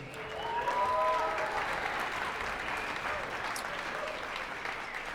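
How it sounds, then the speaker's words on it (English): A concert band audience gives a round of applause at a fall concert, a steady, moderately distant wash of clapping that swells early and then holds evenly to the end. "round of applause for that woman"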